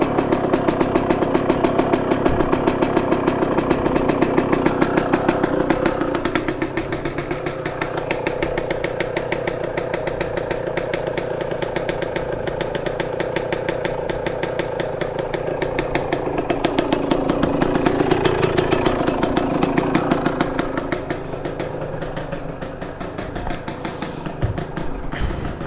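A dirt bike engine runs steadily for the whole stretch, a close, loud, buzzing idle with slight swells in pitch and no voices.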